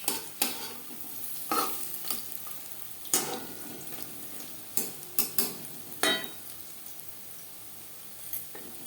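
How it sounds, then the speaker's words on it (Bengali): Curry pakoras of gram flour and onion frying crisp in hot oil, a low bubbling sizzle punctuated by sharp intermittent clicks and scrapes of a spoon. "পাকোড়া ক্রিস্পি করে ভাজা হয়ে গেছে।"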